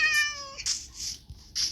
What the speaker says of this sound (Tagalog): Nasaan ang pusa na yan?